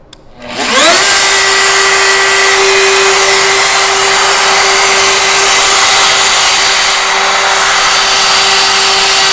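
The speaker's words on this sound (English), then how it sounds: "Now I'm going to turn the router on and slowly lower it into" Wood router spinning up and plunging into plywood, a loud steady high-pitched whine that rises quickly to full speed after a brief start and holds evenly throughout, with no talking.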